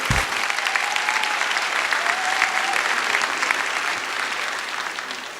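A large audience at a spring college commencement ceremony bursts into sustained, dense applause that holds steady and loud for several seconds, with no voices standing out above the clapping.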